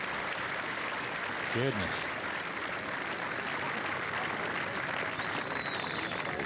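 Golf gallery at the 2002 British Masters applauding a shot with steady, sustained clapping and crowd noise throughout, while a commentator speaks briefly over it.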